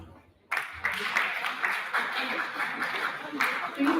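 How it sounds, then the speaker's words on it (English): An audience at an alumni evening at an international school claps after being asked to respond, a sudden burst of many hands from near-silence that carries on as scattered clapping with some chatter. "So if you can hear me, clap once."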